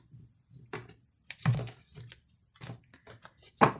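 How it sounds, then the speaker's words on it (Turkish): A deck of tarot cards being cut and shuffled by hand, a quick series of close, crisp papery snaps and riffles in irregular bursts, with no talking. "Kartlarımı şöyle kesiyorum."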